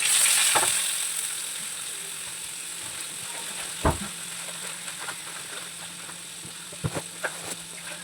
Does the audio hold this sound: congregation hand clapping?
no